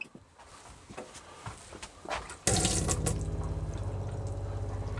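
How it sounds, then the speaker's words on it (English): Faint clicks and handling noises, then a Swift Sundance 630 motorhome's water pump hums on abruptly and water gushes steadily, a continuous droning flow with a low motor tone. "to get the water through, we switch on the water pump"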